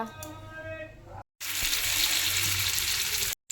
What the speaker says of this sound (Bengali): এখন এটা তেল গরম হওয়ার পরে আলুটা দিয়ে ওগুলো দিয়েছি